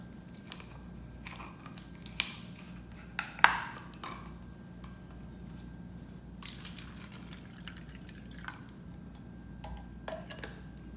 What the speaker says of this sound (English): Going to add a few drops.